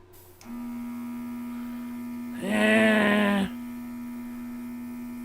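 Small airbrush air compressor switching on with a steady electric hum, then a louder burst of air and motor noise for about a second before settling back to the hum.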